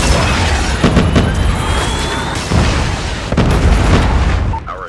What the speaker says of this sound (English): Alright, Predator missiles in.